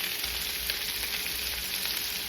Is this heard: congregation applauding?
no